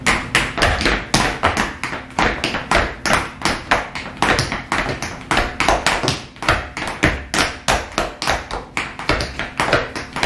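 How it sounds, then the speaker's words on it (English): Tap dancing shoes strike a hard floor in rapid, rhythmic bursts, loud and close, with a steady stream of crisp metallic taps and heavier heel thuds throughout. "What do you like best about tap dancing?"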